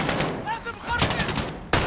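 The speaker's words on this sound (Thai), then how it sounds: "ต้องไปฝั่งนู้นแล้วหันมายิงฝั่งนี้" Gunfire in Call of Duty: Modern Warfare crackles in quick bursts during a mission, with a sudden loud blast near the end over busy combat noise.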